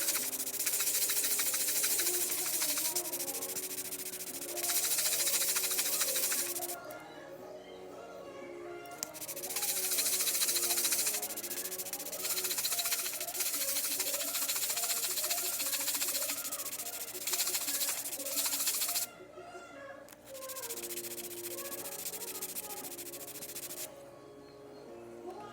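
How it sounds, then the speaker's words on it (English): Sandpaper, 220 grit and coarser, being rubbed back and forth over an acoustic guitar saddle on an old Kona acoustic/electric guitar, producing close, loud, rhythmic scratchy strokes with short pauses between bursts. "I'm going to keep sanding this down to the line"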